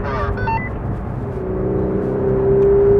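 Twin-turbocharged engine of a Ferrari 488 Pista, a steady low rumble that builds and grows louder toward the end with a rising tone, heard from inside the car.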